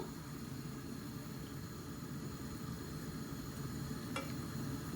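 Chopped onion sizzles steadily in a little oil, a constant broadband frying hiss with one brief sharp tick near the end and no voices.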